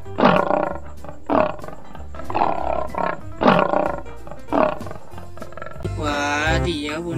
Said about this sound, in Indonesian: Ada dua ekor harimau nih teman-teman.